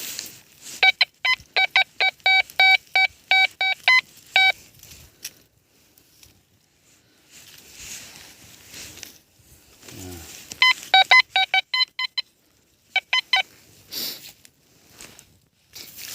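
Metal detector signal tones during a field search for coins and relics: bursts of rapid, evenly spaced electronic beeps, clustered in two busy runs with a quieter gap between, fairly loud and close, with a brief low thump in the middle.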